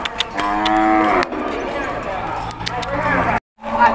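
Brahman cattle mooing at a busy cattle market, a loud, close, drawn-out low moo followed by further lowing, with people talking nearby.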